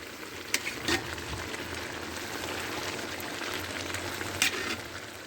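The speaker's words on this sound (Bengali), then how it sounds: "এভাবে খুন্তি দিয়ে এভাবে নাড়ি নেবেন" A spatula stirs milk into bottle gourd and prawn shukto with neem leaves in a pan, a steady soft sizzle and bubbling with a few light scraping taps near the start and end.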